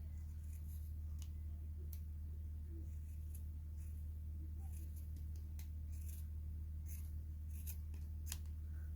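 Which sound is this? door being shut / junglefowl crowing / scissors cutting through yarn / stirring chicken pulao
scissors cutting through yarn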